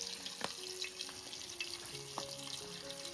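Pomfret fish frying in hot oil in a home kitchen, a steady crackling sizzle with a few sharper pops and clinks, close and moderately loud, no talking.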